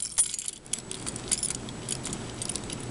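A bunch of keys with a small attached light, clipped to a leather carabiner, jangles in close metallic clinks and rattles that keep going throughout with no one talking.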